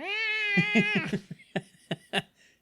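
A cat meows several times up close: one long, wavering drawn-out meow followed by a string of shorter chirping mews, with no talking.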